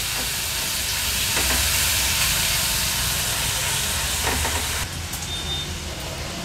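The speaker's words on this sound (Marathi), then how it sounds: "वाटण तेलावर थोडंसं परतून घ्यायचंय आपल्याला।" A ground paste of ginger, garlic, chilli and coriander fries in hot oil with a loud, steady hissing sizzle and occasional stirring scrapes, no voices.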